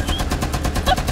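Light machine gun in Rainbow Six Siege firing a rapid sustained burst, loud and close, with evenly spaced shots throughout.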